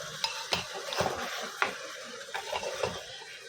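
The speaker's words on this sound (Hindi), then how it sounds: "अभी इसको अच्छे से 5 मिनट तक इसी के अंदर भूनेंगे, चम्मच चला चला के भूनेंगे अच्छे से।" Goat offal, spleen, lungs and heart, being fried in a pan and turned with a spoon: close, fairly quiet scraping and clinking strokes spaced about half a second apart over a soft, steady sizzle.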